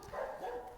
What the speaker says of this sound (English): these goddamn dogs